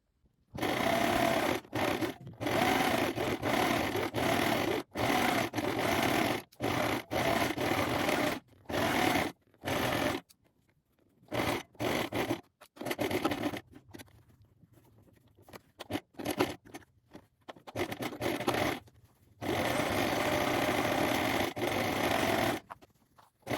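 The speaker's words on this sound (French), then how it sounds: "Et vous allez coudre tout autour à 1 cm du bord" A sewing machine stitches around a fabric belt in quick loud bursts of rapid needle chatter, separated by short pauses and a few quieter stretches of fabric handling.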